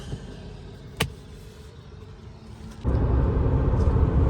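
A Kia Sorento 2.2 diesel with an automatic gearbox drives along, its low cabin rumble steady at first, then rising noticeably louder as road and engine noise build, with a sharp click near the start.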